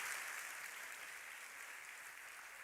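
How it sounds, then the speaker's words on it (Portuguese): Faint, steady applause from an audience honoring an actor, a soft continuous patter of many hands that holds at an even level for the whole stretch, distant and with no voices over it. "Vamos dar uma salva de palmas para o nosso ator."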